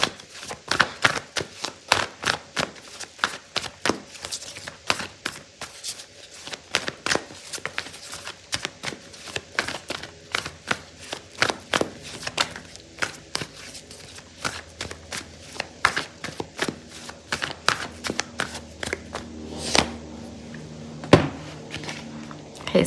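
Oracle cards are shuffled by hand for a long stretch, producing rapid irregular papery flicks and slaps close by, with occasional softer rustles and a few louder taps, and little talking.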